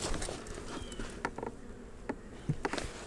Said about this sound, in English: Got bees all the way across here.